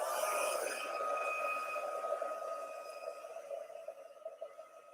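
A heat tool is used for heat setting embossing in a crafting session, giving a steady, whining tonal hum that starts loud and gradually fades and becomes uneven toward the end, with no talk over it.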